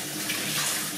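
Water runs steadily from a hotel shower in Aruba, a continuous close hiss filling the whole moment without any talk.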